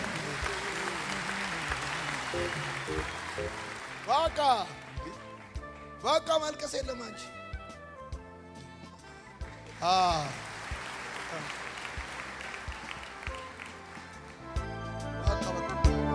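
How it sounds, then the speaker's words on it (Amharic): Audience applause at a church youth gathering, a steady clapping wash running under a preacher's loud voice and bursts of music throughout. "አጨብጭቡላት በደምብ።"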